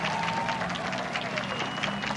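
Clapping from a crowd at an outdoor political speech in Central Park, a dense steady patter of applause with cheering voices that continues throughout.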